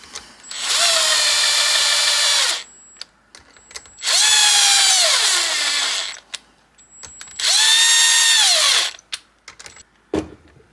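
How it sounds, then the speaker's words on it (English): A wrench tightens camshaft caps on a Mazda Miata, making three long, close whirring bursts of a few seconds each with a shifting, bending pitch. Short quiet gaps with small clicks and knocks separate them. "as we draw it in with the wrench, I'll do the same thing."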